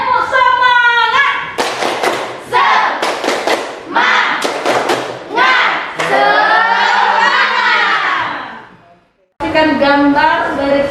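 A classroom group does a rhythmic spirit clap, sharp patterned claps and thumps in quick bursts, mixed with chanting voices and a short pause before the clapping resumes.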